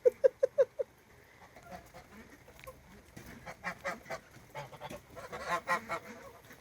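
Five quick, loud goose honks arrive in a rapid burst at the start, followed by fainter, scattered calls and rustling during a rainy outdoor stretch.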